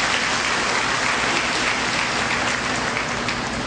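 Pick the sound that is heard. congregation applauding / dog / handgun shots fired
congregation applauding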